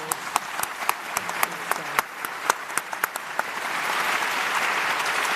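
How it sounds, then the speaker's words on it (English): Scattered claps build into a round of applause from a modest audience, growing denser and steadier toward the end. "I think that deserves a round of applause"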